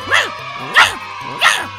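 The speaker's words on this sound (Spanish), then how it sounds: "No, Laika, no le ladres a tu nuevo hermano" A dog barks three times in sharp, evenly spaced bursts, close and loud over a low steady background hum, with no talking.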